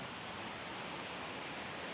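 A waterfall at Ciletuh, Sukabumi, running with brownish water, makes a steady, even rushing hiss that is fairly faint and unbroken, with nobody speaking.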